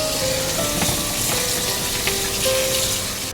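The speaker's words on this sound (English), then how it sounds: "Rinse these thighs with the fresh water." Boneless chicken thighs rinsed under running fresh water, a steady close rushing and splashing of tap water with no speech.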